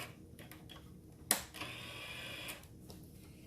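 A Vagabond 2 die-cutting machine working on sticker paper, giving faint ticks, then a sharp click followed by a low mechanical hum lasting about a second, quiet and close with no talk.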